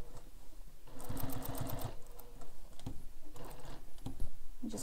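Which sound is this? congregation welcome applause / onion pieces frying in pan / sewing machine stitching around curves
sewing machine stitching around curves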